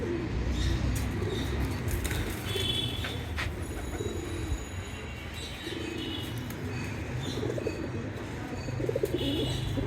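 Pigeons kept at a home loft coo in low, repeated rolling calls close by, mixed with scattered chirps and a bit of wing movement in the background.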